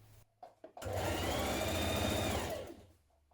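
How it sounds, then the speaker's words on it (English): A sewing machine stitches a dress hem seam with a regular foot: a few short clicks, then one continuous whirring run of about two seconds at steady speed before it winds down, close and clear. "I'm going to stitch the rest of that seam down the bottom of the dress."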